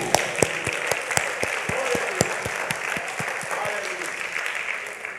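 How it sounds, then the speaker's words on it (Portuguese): Church congregation clapping for Jesus, a fairly dense mass of hands with sharp individual claps popping out irregularly, moderately loud and slightly distant, while singing or talk continues faintly underneath. "Vamos bater palmas para Jesus."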